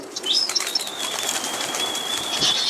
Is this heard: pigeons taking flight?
yes